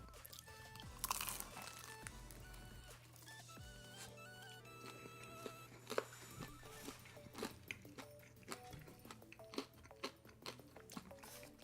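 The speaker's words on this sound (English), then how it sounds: "Despite 2 hours, they're still pretty nice and crunchy." Crunchy fried chicken being bitten and chewed: one sharp crunching bite, then a long run of close, irregular crisp chewing crunches, quiet and with no talking.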